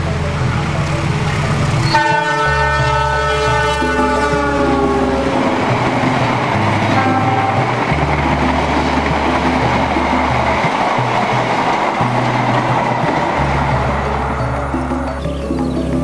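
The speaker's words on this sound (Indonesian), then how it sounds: "kereta api turangga dari Bandung yang masuk Surabaya" A train horn blasts in long repeated tones while the Turangga passenger train from Bandung rumbles and clatters steadily along the tracks into Surabaya, loud and close.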